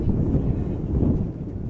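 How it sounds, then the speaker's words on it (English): Wind buffets the microphone at an outdoor baseball game, a sustained gust from the southeast producing a heavy, continuous low rumble that swells and eases slightly without pause. "You can hear the wind"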